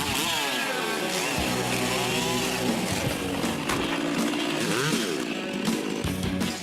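A chainsaw roars continuously up close, its engine pitch rising and falling as it bites into wood while carving a sculpture, with no pauses.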